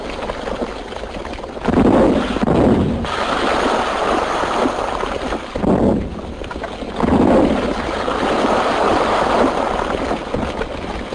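Blasting explosions for digging a canal rumble as broad, heavy booms, with several swells of roaring noise rising and fading over a constant low rushing background, sounding distant and muffled.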